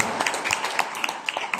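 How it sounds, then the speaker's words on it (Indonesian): A short burst of audience clapping at a campus career talk, rapid uneven hand claps at moderate level lasting under two seconds. "Tepuk tangan dulu ya."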